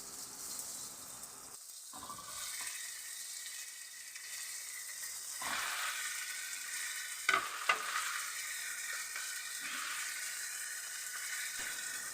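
Tilapia frying in a pan with light-brown onion and tomato for ginataang tilapia, a continuous moderate sizzle broken by occasional stirring scrapes and a couple of sharp clicks, with no talking.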